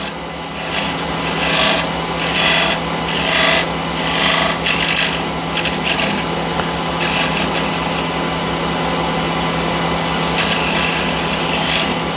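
A steel square-end card scraper is pulled across a wooden surface in repeated rasping strokes, each a loud scratchy burst with short gaps, over a steady low hum, followed by a longer run of scraping near the end.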